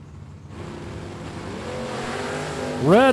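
Camaro drag race cars at a strip make a steady roar that builds gradually, then a sharp surge of rising engine revs bursts out at the end as the cars launch.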